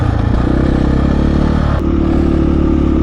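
A 2020 Husqvarna FE501s dual sport motorcycle engine runs loud and close, a steady throbbing drone that shifts pitch briefly partway through before settling again.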